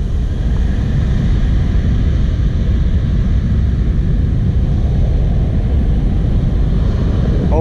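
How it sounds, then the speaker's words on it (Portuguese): Strong, constant wind buffeting rushes past while a jet ski speeds across the water, loud and unbroken, with engine drone mixed underneath and no talking. "Olha o vento."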